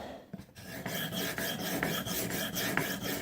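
A knife edge is drawn across a sharpening stone in steady, rhythmic rasping strokes, about three per second. The scraping is close and clear, with no talking.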